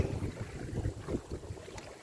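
Dry wind blows along the bank of the Mekong River during bottom fishing, a continuous low rushing buffet with gusty swells and rumbling microphone noise, steady and fairly loud throughout.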